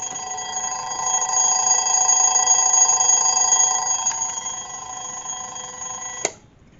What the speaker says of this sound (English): I wanted to check out the alarm, and it's a bell, not a buzzer.